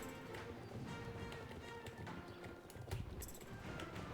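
Galloping horse hooves pound rapidly and continuously amid a busy, dense Star Stable Online game soundscape, with faint voices mixed underneath.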